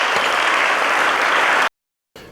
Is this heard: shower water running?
no